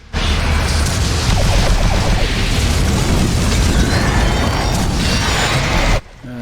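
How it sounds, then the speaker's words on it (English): An exploding trike from Doom 3: BFG Edition gives a sustained, loud, roaring blast with booming low rumble, holding steady for about six seconds before cutting off abruptly. "I can't really say that I've seen the exploding trike before"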